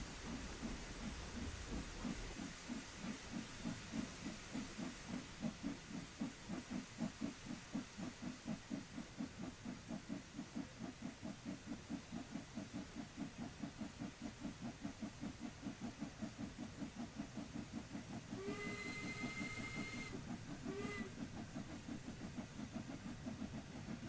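A steam locomotive in a railway simulator chuffs in a steady rhythmic beat with a soft hiss of steam throughout, and a brief whistle-like tone sounds near the end.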